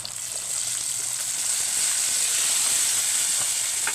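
Tomatoes dropped into hot oil in a pan give a steady, loud sizzle with bright hissing steam that swells after the first half second and holds.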